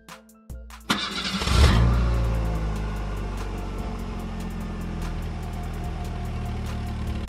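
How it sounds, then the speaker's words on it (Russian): A car engine starts from a push-start button: a brief click, then the starter cranks and the engine catches with a rising rev before settling into a steady, close idle. "Перед вторым нажатием нужно нажать на педаль тормоза, а потом уже нажать на кнопку, и двигатель заведется."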